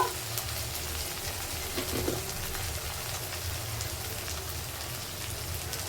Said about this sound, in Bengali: দেখো এটা ভালো করে আমার ভাজা হয়ে গেছে মশলাটা